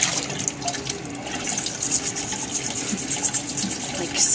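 A polished bryozoan sample being rinsed under a running tap gives a steady, close hiss of flowing water with small splashy fluctuations throughout, moderately loud.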